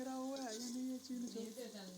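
Onion, garlic and ginger fry with a steady sizzle in a pan while being stirred, partway through an aloo chicken karahi. The sizzle runs throughout, close and moderately loud, with a voice-like tone over it.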